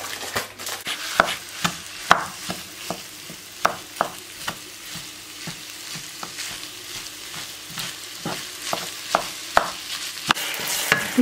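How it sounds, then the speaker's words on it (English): Mince and onions fry in a pan with a steady sizzle, while a utensil scrapes and stirs in regular, sharp strokes roughly every half second, close and clear. "Mince and onions are cooking away"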